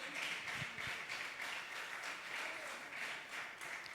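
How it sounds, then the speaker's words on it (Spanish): A church congregation claps its hands as an offering of applause, a steady, dense patter of many hands filling the room for the full stretch without voices. "Demos una ofrenda de palmas al Rey."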